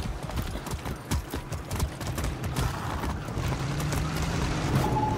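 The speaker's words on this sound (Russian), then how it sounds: "Хорошая лошадка." A horse's hooves clip-clop at a steady, rapid pace in Far Cry 6, running continuously at moderate volume over a dense game soundscape with faint tones near the end.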